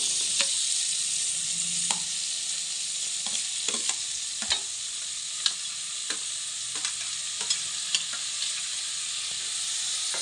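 Tomato and green chillies frying in a pan for an egg curry: a steady, close sizzle runs throughout, broken by repeated clicks and scrapes of stirring, with no talk.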